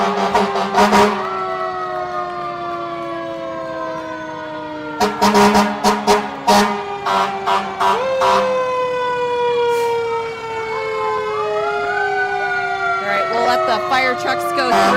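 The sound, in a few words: fire trucks with sirens passing in parade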